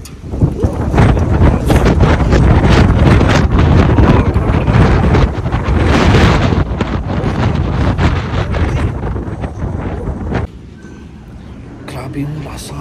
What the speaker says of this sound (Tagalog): Grabe yung lakas ng hangin guys sa lipas.